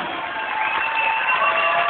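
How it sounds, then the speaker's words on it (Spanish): Loud, sustained applause and cheering from a TV studio audience, a steady dense wash of clapping that swells slightly toward the end with no voice on top. "Y el aplauso fuerte de este público"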